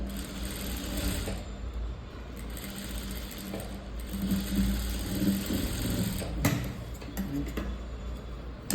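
A sewing machine runs steadily, stitching a straight seam on a lined blouse, with a continuous mechanical whir and a faint ticking rhythm at moderate loudness throughout, no talking.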